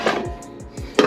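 A cooking pot is handled in a food truck kitchen, giving a few sharp metallic clanks and knocks at close range, with a louder bang at the end.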